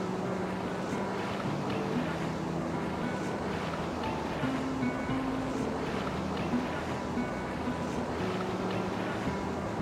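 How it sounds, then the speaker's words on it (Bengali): Sea waves at Chandrabhaga beach near Konark make a steady, dense roar of surf mixed with wind noise, continuous and fairly distant, without distinct individual breakers. "হোটেল থেকে বেরিয়ে পৌঁছে গেছি চন্দ্রভাগা বিচে।"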